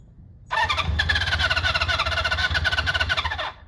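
A classic Honda CB400 Four motorcycle under restoration starts up with a loud, close burst of mechanical churning and a high squeal that runs about three seconds before cutting off.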